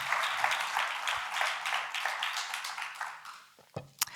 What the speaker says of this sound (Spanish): Recibamos con un fuerte aplauso a Mónica.